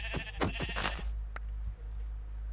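A sheep in Minecraft lets out a few quick, close bleats in a short burst, then a brief click and quiet hum follow.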